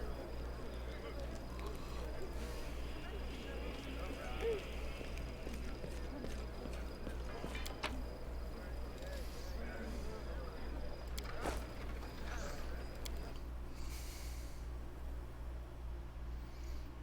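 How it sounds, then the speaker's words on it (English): Horse clip-clop hooves in the Pathfinder: Wrath of the Righteous video game, a steady rhythmic plodding under a constant low hum and faint ambient insect buzz, with occasional louder knocks, no speech. "And it's over to see what that horse is all about."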